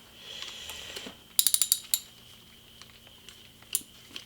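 A socket ratchet tightens a bolt while a paint spray gun is reassembled after cleanup of hardened 2K catalyzed paint, giving a quick run of sharp close clicks and a few more isolated clicks later, with no talk.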